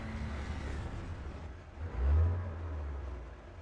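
An MRAP armored vehicle's engine idles as a low, muffled rumble, swelling briefly in a heavier surge midway before settling back to a steady drone.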